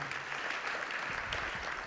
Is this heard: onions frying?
no